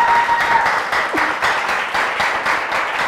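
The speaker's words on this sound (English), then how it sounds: "A round of applause!" A live audience claps and cheers for a female singer's introduction at a Ghanaian music show, a loud, dense, continuous round of applause with a faint tone sliding briefly through it.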